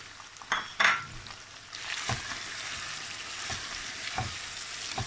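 Chicken fries in a pan with added spices and fenugreek for Lahori murgh cholay, a soft continuous sizzle broken by a few sharp clinks of a utensil against the pan early on.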